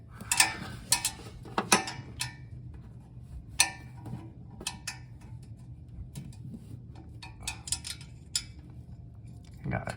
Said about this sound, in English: So I'm getting these header bolts loose.